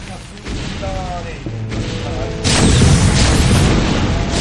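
Siege tank artillery fire in a StarCraft match: heavy booming impacts and crashes layered over continuous battle noise, growing louder and denser in the second half.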